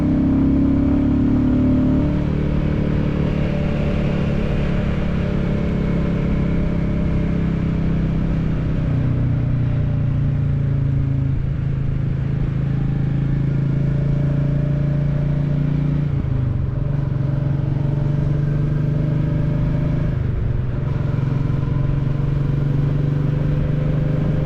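A Royal Enfield Classic 350 motorcycle on a commuting ride gives a loud, continuous engine drone mixed with wind rush, with a few slight dips as the revs change.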